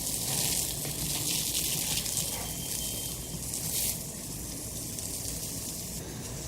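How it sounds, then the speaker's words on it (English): A garden hose sprays water over a lawn outdoors in a continuous, steady hiss and rush that stays close and fairly loud, with slight surges in the flow. "I'm spending a little bit of time outside watching Joe water what he thinks is a lawn."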